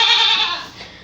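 A goat bleats just after giving birth to a male kid, a single loud, close, drawn-out cry that fades toward the end.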